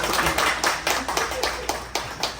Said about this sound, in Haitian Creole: On va vous applaudir.